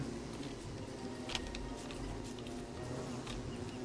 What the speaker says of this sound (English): I don't really want to be catching the bees here